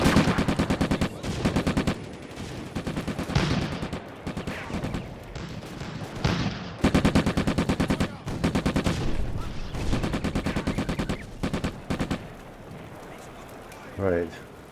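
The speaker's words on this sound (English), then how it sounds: "Now I'll begin shooting. Yeah, still 32 ammo. Sizable amount. Machine gun ammo." Video-game machine gun fire in Combat Mission: Afrika Korps at the Bir Hakeim battle rattles in dense rapid bursts almost without pause, loud and continuous, with scattered heavier shots mixed in.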